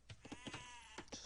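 Sheep in an Age of Empires match bleat in a few short, wavering calls over a steady hum of game ambience, moderately close and clear.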